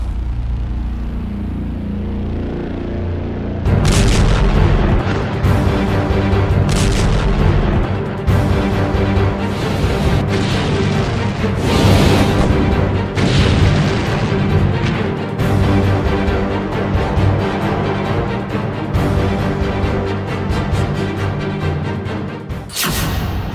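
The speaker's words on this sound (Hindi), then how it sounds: "इजराइल पर पहली मिसाइल लॉन्च।" Missile launches and explosions from Iran-Israel war footage: loud rumbling blasts and booming bursts erupt after a quiet start, then repeat irregularly over a continuous roar, with no speech.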